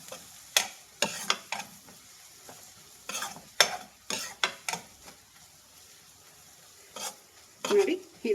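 Vegetables coated in masala stirred in a frying pan for vegetable Maggi noodles, a series of sharp scraping and clinking strokes of a spatula against the pan, irregular and close, with a faint sizzle between strokes.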